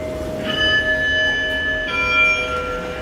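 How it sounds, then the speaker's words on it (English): Schindler 3300 machine-room-less traction elevator chimes at a beach resort: two clear ringing tones about a second and a half apart, each sustaining over a low cab hum. "I love those chimes."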